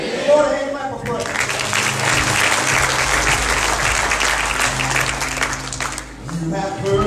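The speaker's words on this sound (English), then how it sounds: "Give the Lord a hand clap of praise." A church congregation at a Wednesday service bursts into hand clapping in praise. The loud, full applause starts after a second of organ-like tones, swells over sustained low music, and fades with the music around six seconds.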